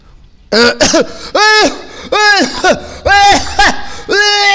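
Several harsh, raspy coughs in quick bursts after a brief silence, close and loud, some with a strained, vocal edge.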